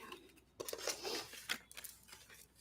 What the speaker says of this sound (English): Everything's been pre-shuffled, but I like to extra shuffle.